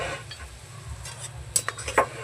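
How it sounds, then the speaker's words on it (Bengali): Spoon stirring turmeric powder into chana masala in a pan, soft scraping strokes with a couple of sharper metal clinks near the end, close and quiet, with no talking. "হলুদ গুঁড়ো দিয়ে একটু নাড়াচাড়া করে নিচ্ছি।"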